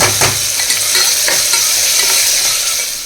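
Ginger garlic paste sizzles steadily in a hot pan while a spoon stirs it with soft scraping strokes, a loud, continuous close-up frying hiss with no voices.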